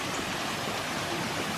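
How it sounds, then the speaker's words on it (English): Ingalalla Waterfalls near Second Valley sends up a steady, broad rush of falling, flowing water, constant and fairly loud from start to finish, with no voices. "Here's a spot called Ingalalla Waterfalls."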